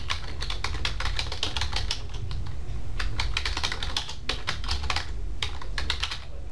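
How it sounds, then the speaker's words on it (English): Rapid, continuous clatter of keys on a computer keyboard, close and fairly loud, with dense irregular keystrokes throughout and no talk. "Type University of Southern California into the search box."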